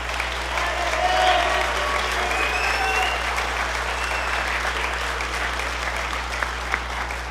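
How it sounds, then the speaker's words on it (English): Sustained audience applause at a school spring band concert, steady clapping from a crowd filling the room for several seconds, with a low steady hum underneath. "So give Christopher another round of applause."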